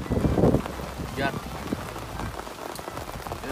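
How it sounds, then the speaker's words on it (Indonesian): Rain falls at a campground in Mega Mendung, Bogor, in the early evening, a steady close patter of drops on surfaces that continues without a break. "Hujan."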